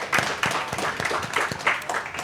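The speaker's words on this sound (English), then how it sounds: "A round of applause." Small conference audience clapping at the close of a session, a sparse rhythmic patter of individual claps, fairly close, lasting a couple of seconds.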